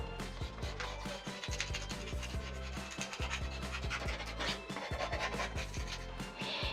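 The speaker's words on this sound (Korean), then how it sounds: "이 스크래퍼의 반대편에 이 평평한 면을 사용하면 남아있는 실리콘까지 완벽하게 제거가 돼요" The flat side of a scraper scrapes leftover silicone caulk off a surface in quick, repeated rasping strokes. The scratching is close and steady, with a faint tonal squeak under it.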